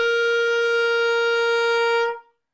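A single sustained clarinet or saxophone note held perfectly steady without vibrato, bright and reedy with rich overtones, lasting about two seconds before a quick release into silence.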